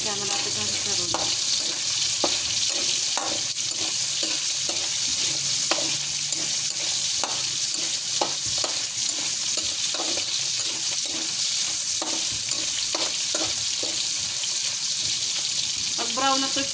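Pancit bihon rice noodles fry in a pan with a little oil, a steady loud sizzle broken by regular scraping clicks of stirring throughout.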